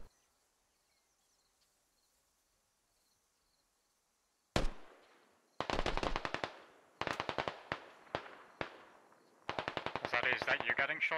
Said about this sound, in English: Is that you getting shot at from the west?